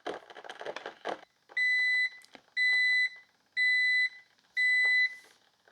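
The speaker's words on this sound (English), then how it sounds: "so there's the beeps" A Cuisinart 12-cup Grind & Brew Plus coffee maker signals the end of brewing with four loud, evenly spaced electronic beeps, each about half a second long, following a stretch of steamy hiss and clatter.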